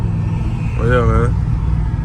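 A Ram TRX pickup truck on its first drive gives off a steady engine and road drone with a rising mechanical whine layered on top, heard from inside the cab while a person talks.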